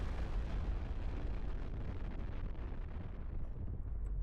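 Heavy rumbling blasts from grenade launchers in the military strategy game Broken Arrow, a dense continuous roar of explosions with low booming weight throughout, loud and without talk.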